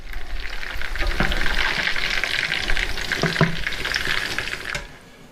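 Steak Diane sauce sizzles and fries steadily in a pan, a continuous bright crackle with a few soft clinks and scrapes of stirring, fading slightly at the end.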